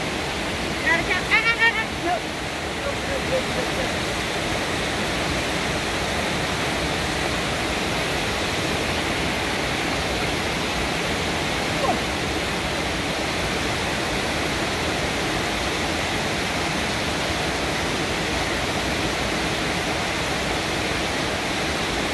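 Steady, loud rush of a waterfall splashing, a broad constant roar, with a brief burst of nearby voices at the very start.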